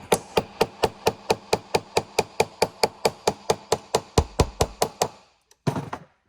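Diamond bangle being tapped straight with a hammer, a rapid even series of about twenty crisp metallic taps, close and loud, ending with a brief pause and one final scuffing knock.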